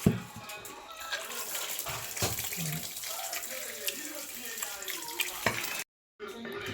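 Running water flows from a tap over frozen bones meant for kappa biriyani, a continuous close splashing and gurgling with small knocks, cut off by a brief silence near the end.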